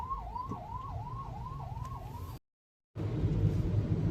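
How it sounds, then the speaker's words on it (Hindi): An ambulance siren wails in a traffic jam, about five rising-and-falling cycles over low engine rumble, then a short break before louder road noise returns. "और इस जाम में एक एम्बुलेंस आ गई है"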